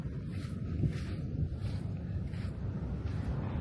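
Strong sea waves roll in at Yam's Beach Resort in Zambales, a steady close roar of surf mixed with heavy wind buffeting on the microphone, with no voices over it.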